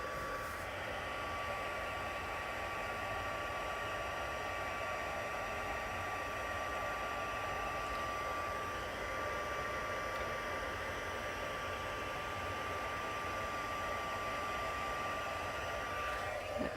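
Heat gun heat-setting a craft project, a steady loud whooshing blower roar with an even tone held throughout, no talking.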